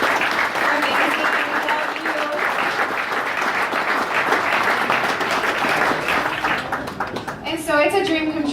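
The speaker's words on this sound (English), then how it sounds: "So can we just give him a hand of applause for this?" Sustained audience applause at an indoor fundraiser, many hands clapping steadily for several seconds before fading, with a voice speaking near the end.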